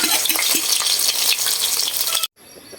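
Wild fern (pako) sizzles loudly and steadily in a hot kawali (pan) while being cooked for a fern omelette (tortang pako), a dense continuous hiss that cuts off abruptly near the end.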